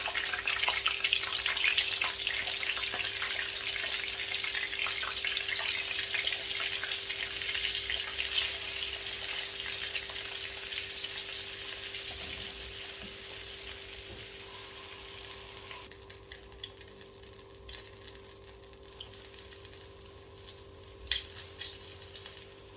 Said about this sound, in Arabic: ونبتدي ننزل بالزيت او الكاليماري